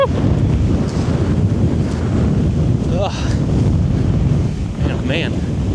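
Strong wind buffets the microphone in a continuous low roar in Rochester, with brief faint voice-like sounds breaking through near the middle and end.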